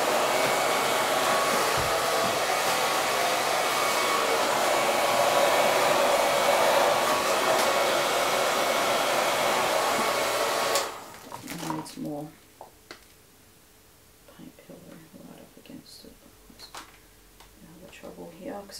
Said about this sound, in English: here is the golden time, hairdryer time